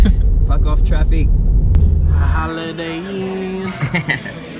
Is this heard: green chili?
no